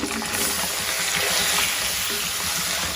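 Beef sizzles and crackles steadily in a hot pan with garlic-ginger paste, a dense close frying hiss with occasional stirring scrapes, no voices.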